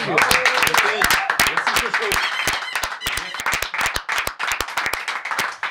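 A small French talk-show studio team claps together, with sharp, separate hand claps forming a loud, uneven burst, while voices carry on over and through the clapping.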